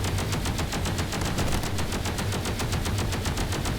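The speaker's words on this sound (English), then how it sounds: "That's an explosion." Rapid continuous crackling bursts like heavy automatic fire from missile strikes in the space game Space Engineers fill the scene, loud, dense and rhythmic, with no talking.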